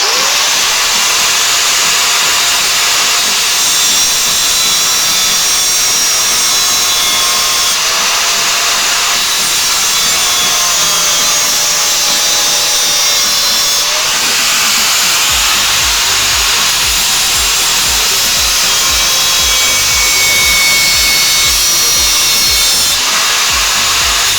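A power saw cuts a golf driver head in half, a loud, steady, high-pitched grinding whine that runs unbroken for more than twenty seconds with a rough rasp underneath and no voices.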